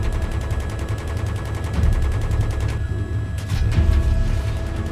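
Rapid machine-gun fire in Battlefield 3 rattles in sustained, fast bursts, loud and close throughout, with a short pause midway before the shooting resumes.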